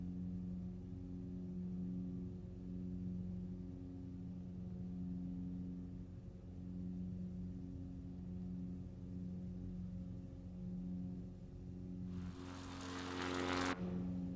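Steady droning propeller engine of an NX Cub light aircraft cruising in a flight simulator, faint and even throughout, ending in a brief burst of broadband noise.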